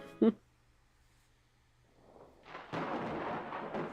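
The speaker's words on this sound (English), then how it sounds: "there's a much louder boom than the one I caused, as thunder rumbles outside" Thunder from a storm outside a library in a fox-girl story game, a deep rumble swelling into a loud, sustained boom after a brief sharp sound and quiet lead-in.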